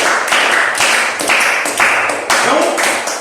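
A room of attendees at a sales seminar claps in rhythmic bursts, a near, loud run of unified claps rising and falling in waves.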